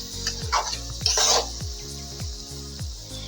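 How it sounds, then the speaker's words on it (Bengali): Carrot halwa is stirred in a pot, a spoon scraping and clanking against the metal in a steady rhythm of about six strokes, with a soft sizzle beneath and two louder scrapes near the start. "এবারে এটাকে একটু নাড়াচাড়া করে নেব।"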